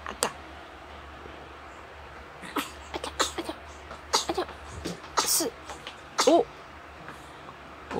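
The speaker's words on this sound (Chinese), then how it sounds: "连续喷嚏五下" A newborn baby sneezing several times in quick succession, small sharp bursts spaced a second or so apart, close but soft against a quiet room, with faint background voices.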